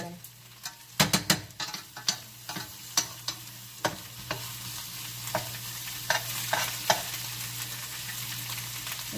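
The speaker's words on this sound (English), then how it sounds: "So you just want to move the garlic around in there." Chopped garlic fries in a pan while a utensil stirs it around, a steady close sizzle broken by repeated sharp scraping clinks against the pan at an irregular rhythm.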